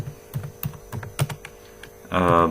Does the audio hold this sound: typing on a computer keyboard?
yes